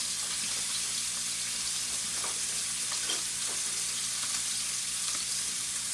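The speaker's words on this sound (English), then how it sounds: "We're already getting there with a good sear on the bottom." Steak searing in a hot pan on an electric coil stove, a steady close hiss and sizzle with a few faint crackles and clinks, no voices.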